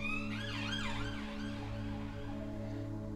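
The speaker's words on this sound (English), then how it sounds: "It's obviously an ambulance." An ambulance siren wails with rising and falling tones over a steady engine drone, fading slightly as it continues.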